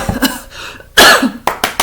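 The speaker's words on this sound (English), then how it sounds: "Apologies for the coughing." Several harsh, close coughs in quick succession, loud and hoarse, with short pauses between bursts.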